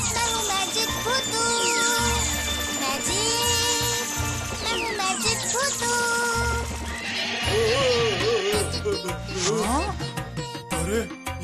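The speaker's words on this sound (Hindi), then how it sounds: "ये बैल तो सच में घोड़े बन गए।" Cartoon bulls magically turned into horses neigh and whinny repeatedly over a bouncy music score, with galloping clip-clop and jingling effects throughout a busy animated scene.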